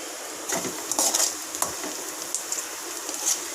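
Onions fry in a pan until brown, giving a soft continuous sizzle with scraping and clinking stirring strokes from a utensil against the pan.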